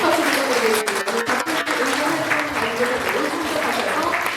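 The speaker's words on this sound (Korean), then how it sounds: "여러분 박수 부탁드리겠습니다" Audience applause at a forum in Sejong on amending the constitution for an administrative capital, a steady crowd of clapping hands filling the hall while a speaker talks over it.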